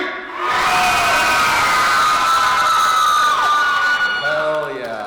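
A convention audience at a horror fest cast reunion panel screams and cheers together, a loud sustained burst of shrieks and whoops from many voices, fading into scattered yells.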